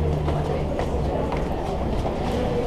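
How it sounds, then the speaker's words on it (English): A train in France rumbles along the rails with a low, steady roar and faint rhythmic clacks, while people speak quietly beneath the noise. "we went on a train"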